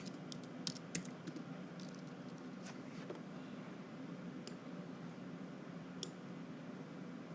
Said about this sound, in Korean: 그래서 점을 누르고 이 탭을 눌러보게 되면은